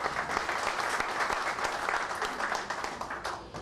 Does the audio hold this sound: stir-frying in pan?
no